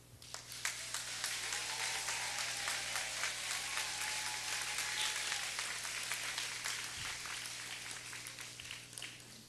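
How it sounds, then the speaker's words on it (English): A crowd at an elementary school staff appreciation event applauds and cheers for the teachers, a dense, steady wash of clapping sustained for several seconds with faint voices mixed in. "we always have to give a big cheer for our CREST teachers"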